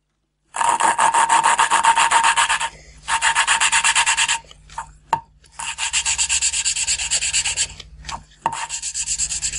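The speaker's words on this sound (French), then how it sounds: "Là, vous entendez bien très rapidement le son, ce feutre. Donc là, c'est signe qu'on est en train de faire un bon rodage." Renault 4L engine valves are lapped with coarse grinding paste in long, close, continuous bursts of dry gritty rasping, broken by short pauses and a few small knocks.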